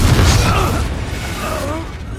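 A Confringo spell detonates in Hogwarts Legacy with a loud, low boom up front that rolls into rumbling debris, while a voice sounds faintly underneath.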